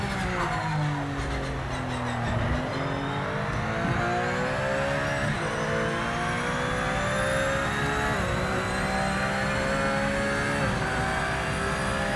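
A race car engine in the Project Motor Racing video game roars loud and continuous, climbing in pitch and bouncing off the rev limiter, with gear changes shifting the tone throughout.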